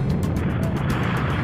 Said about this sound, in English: All engines building up thrust.